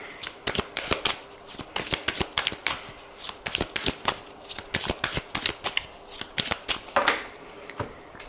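A deck of oracle cards is shuffled and cut up close. Rapid, irregular riffles and crisp card slaps repeat almost continuously and loudly.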